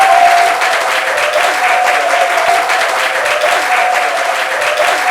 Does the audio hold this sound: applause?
yes